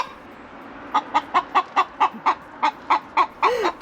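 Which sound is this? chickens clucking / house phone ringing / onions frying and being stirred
chickens clucking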